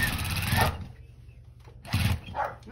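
A sewing machine runs in two short bursts, stitching through a heavy folded denim quilt, with a steady mechanical chatter separated by a brief pause.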